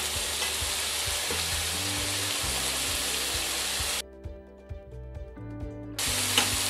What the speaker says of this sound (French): Ensuite, on y met les champignons. On fait revenir ça tranquillement.